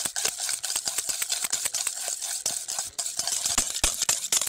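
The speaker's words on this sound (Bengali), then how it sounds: "ডিমের যে হলুদ হলুদ ভাবটা আছে যত সময় না সাদা সাদা হয়ে আসবে ঠিক তত সময় কিন্তু হ্যান্ড বিটার দিয়ে বিট করতে হবে।" Hand beater whisking eggs for a sponge cake, a fast steady run of metallic clicks and scraping against the bowl, close and continuous with no talk.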